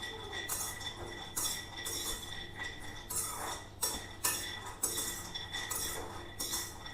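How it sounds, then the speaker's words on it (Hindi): Almonds are stirred and roasted in a metal kadhai over a low gas flame, with a spoon scraping and clinking against the pan in repeated rhythmic sweeps over a steady low hum. "अब हम इसी कढ़ाई में बादामों को भूनेंगे।"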